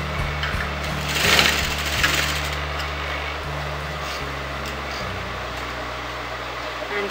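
A domestic sewing machine running a long basting stitch on a front-opening kurti, a steady mechanical whir and rapid needle clatter with a few short stops and restarts, close by.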